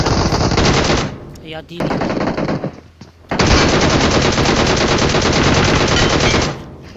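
Rapid automatic gunfire from a video game rattles in long loud bursts with a short gap partway through, while a player calls out briefly.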